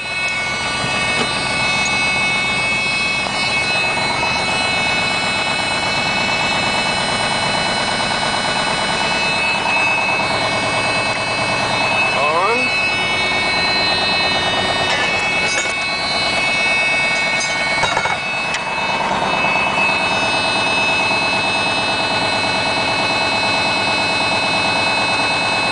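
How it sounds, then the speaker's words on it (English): Diesel truck engine idling on a cold start, a loud, steady, close rumble that holds unbroken for the whole stretch with faint mechanical rattles on top. "set to high idle, and we'll come back after she warms up."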